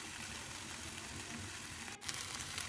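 Rice flour batter spread thin in a pan fries slowly with a steady, even sizzle throughout, broken by a brief dip near the end.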